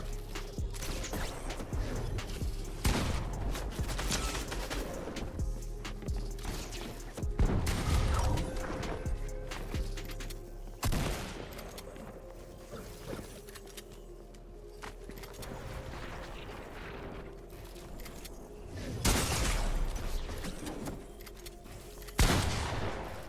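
Fortnite gunfire during a tournament match: scattered loud shots and bursts ring out over about twenty seconds, with quieter mechanical handling noises between them and no talking.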